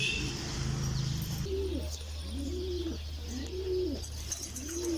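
Pigeons cooing near a rooftop loft at dusk, a series of four rhythmic rising-falling coos close by, preceded by a brief buzzing hum and over a steady low background drone.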